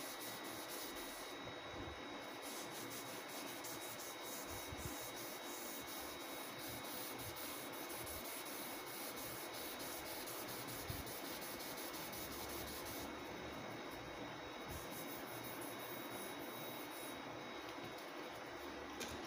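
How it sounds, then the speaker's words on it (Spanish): Sandpaper rubbed by hand over the body of a BC Rich Warlock bass guitar, a steady continuous abrasive hiss with slow back-and-forth strokes, close and alone without talk. "Y vamos pasando la lija suavemente"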